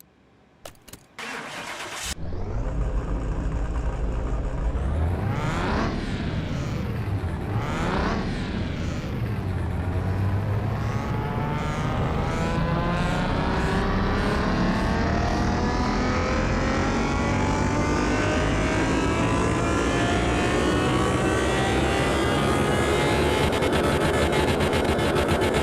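Car engine in Car Mechanic Simulator 2021 starts with a few sharp cranks, then revs repeatedly on a dyno and climbs into a long, loud sustained wail that keeps rising in pitch.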